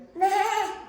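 A voice imitates a goat with one brief, wavering, nasal bleat, close and clear.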